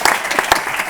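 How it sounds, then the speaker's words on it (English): An audience at a climate commitments panel gives a short, loud burst of applause for a speaker, lasting about a second with a few sharper claps standing out. "applaud for David here"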